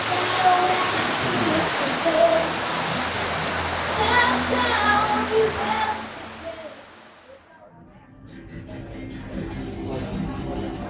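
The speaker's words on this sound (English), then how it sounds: "it started raining" Steady rain pours down at a festival in Ban Rim Nam, Thailand, a loud broadband wash that thins out partway through as shelter is reached, with faint voices and chatter under it.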